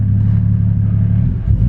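A Toyota 1JZ engine swapped into an R34 Nissan Skyline idles cold just after a push-button start, giving a steady, loud, low rumble with a slight change in tone near the end.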